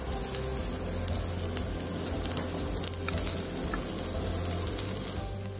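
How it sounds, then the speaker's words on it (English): Diced potatoes fry in hot oil in a pan, giving off a continuous close crackling sizzle full of small pops, with no voices over it. "while the diced potatoes are getting cooked and you'll start getting a little browning on them"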